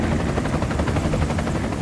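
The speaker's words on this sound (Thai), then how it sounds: "เฮลิคอปเตอร์ของหน่วยเหนือก็มาถึง" Loud, steady thudding of helicopter rotor blades with a heavy engine roar, close by and constant throughout.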